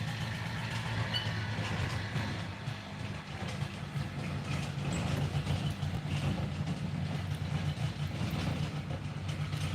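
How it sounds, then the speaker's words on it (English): A four-wheeler ATV engine rumbles steadily as it drives by, a low droning motor noise that carries on for about ten seconds. "My neighbor's driving by with his four-wheeler."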